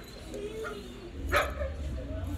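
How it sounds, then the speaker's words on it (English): A husky wolf dog gives a few short barks and yips at moderate distance, separated by pauses and lying under low background rumble and a faint voice. "That's confirmation from the wolf dog. There's a husky out there."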